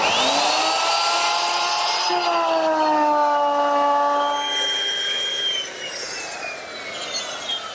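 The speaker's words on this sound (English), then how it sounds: "here I'm using a 3/4 inch radius router bit to ease the front of the seat" Router with a 3/4 inch radius bit easing the front edge of a wooden rocking chair seat: a loud, high whining cut with strong harmonics that dips in pitch under load, then eases off.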